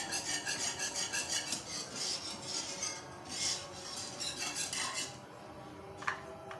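A whisk beats rice phirni in a metal pot, making a steady, rapid rhythm of scraping clinks against the pan, close and fairly soft, with no talk over it.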